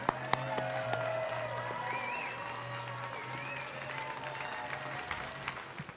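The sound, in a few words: applause for the Westmores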